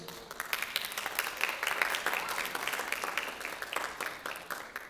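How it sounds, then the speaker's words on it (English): A crowd at a school closing ceremony claps in moderate, slightly uneven applause, individual claps audible within the wash, fairly quiet overall. "How about a round of applause for ACS, please?"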